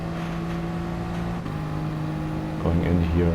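A street car's engine at full throttle on a corner exit at Circuit de la Sarthe in a racing video game, a steady, loud droning whine that shifts pitch and grows louder near the end as revs change.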